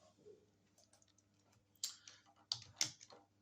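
Someone typing into an MS Excel spreadsheet on a computer keyboard, a few soft scattered key clicks followed by several louder clustered keystrokes, close and quiet, no voices.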